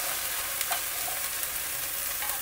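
Diced tomatoes and tomato puree simmering in a pot, a soft steady bubbling and sizzle with faint stirring clicks, close and quiet, with no one talking.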